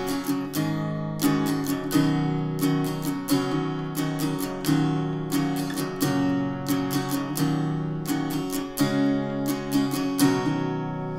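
An acoustic guitar strums the chord progression of a song, with rhythmic bright strums over ringing chords, steady and alone without any voice.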